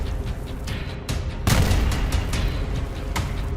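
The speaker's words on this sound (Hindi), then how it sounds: "धमाके शुरू हो चुके हैं।" Explosions in a news report on the Israel–Hamas conflict sound as heavy, rumbling booms and blasts over dense, continuous low roar, with several sharp bursts standing out, loud and sustained throughout.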